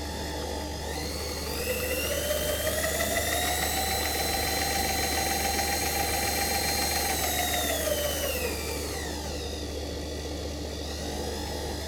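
An electric motor driving a winding mechanism spins up to a steady whine, holds an even pitch for several seconds, then winds down, close and steady over a low background hum.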